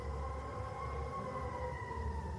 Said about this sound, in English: Christmas parade on Main Street going on right now. That's what the sirens are about.